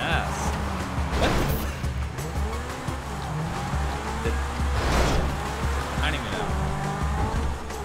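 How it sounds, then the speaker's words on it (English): Car drifting in GTA V, with tires squealing and engine revving under steady game sound, and people talking over it throughout. "Let's do a drift."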